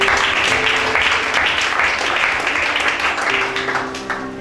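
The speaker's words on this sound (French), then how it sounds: "Acclamons chacun." Church congregation applauding together during a French-language sermon, a dense, sustained wash of clapping at steady loudness for several seconds, easing slightly toward the end.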